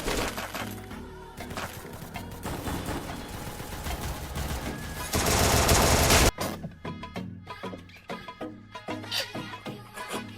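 Rapid gunfire bursts and sharp cracks from a shooting video game, including a headshot, loud and dense at first, swelling into a sustained roar, then breaking into separate punchy shots.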